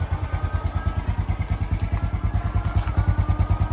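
A Honda XRM125 motorcycle engine idles close by, loud, with a steady pulsing thump and light mechanical clatter, no talk over it.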